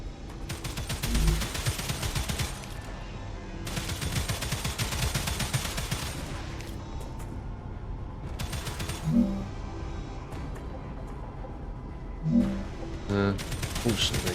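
Guns firing in the StarRupture game, a sustained run of rapid automatic shots with a few louder thumps and mechanical clanks, heard at moderate distance with brief pauses between bursts.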